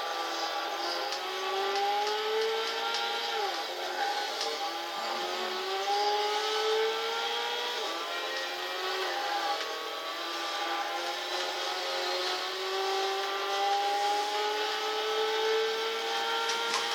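Racing car engines from Gran Turismo 6, including a Subaru and a Mustang on a long straight, whine continuously, with rising pitch sweeps as gears climb and several engines layering at steady loudness.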